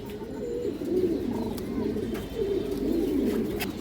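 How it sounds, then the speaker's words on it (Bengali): A ring-eyed female pigeon coos in a loft, soft repeated rolling calls sounding close and clear over a quiet background. "এই যে দেখেন মাদি কবুতর"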